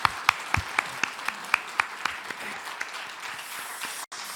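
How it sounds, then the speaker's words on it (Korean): A church congregation claps in thanks for the management department: a moderate, somewhat distant round of applause with a few sharp, distinct claps standing out early, settling into an even patter before cutting off. "우리 격려와 감사의 박수 한번 하도록 하겠습니다"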